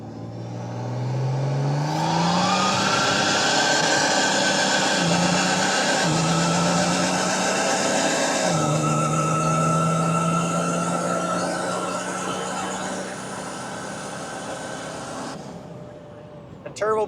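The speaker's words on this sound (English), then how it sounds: "Turbo be chuffing." Turbocharged car revving hard on a drag launch, a loud steady engine roar rising in pitch that runs throughout, ending with a brief sharp chuff as the throttle lifts.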